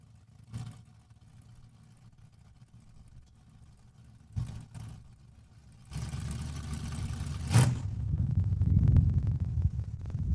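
A yellow Duster drag car at Saskatchewan International Raceway sits at the line with a low, distant engine rumble, a few brief blips, then a heavier sustained rev that swells and lingers toward the end.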